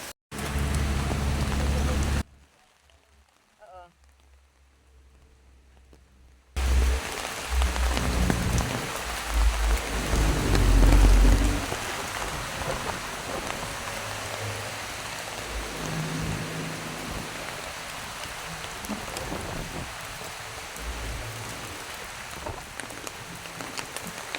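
Heavy rain pours steadily during Typhoon Kristine in Borongan City, a loud, dense downpour that drops out briefly near the start, then returns strong with faint voices underneath.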